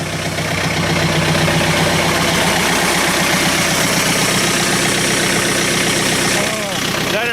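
A diesel engine idles steadily after a cold start at -25°C, a loud, continuous low rumble with an even rhythm throughout that eases slightly near the end.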